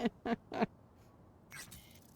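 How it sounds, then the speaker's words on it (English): A chirpy bird in Cyberpunk gives three quick, bright calls in a row, then a short pause and a rougher burst of chatter, close and fairly loud with no talk. "I'm standing next to a chirpy bird"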